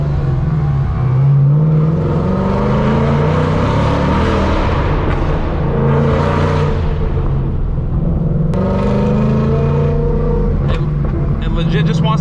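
A Whipple-supercharged Ford Mustang GT rumbles and revs steadily under throttle, with engine drone rising and falling over the whole stretch while someone talks over it from inside the car.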